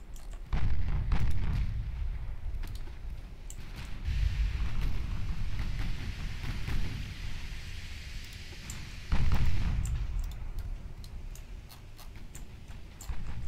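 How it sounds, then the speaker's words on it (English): Deep rumbling explosion from a torpedo striking a ship in the naval warfare game Ultimate Admiral Dreadnoughts, a loud sustained boom that swells again partway through, with sharp crackling impacts scattered over it. "Beautiful torpedo hit."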